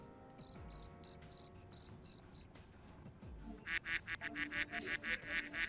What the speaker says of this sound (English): The boys have discovered a cricket.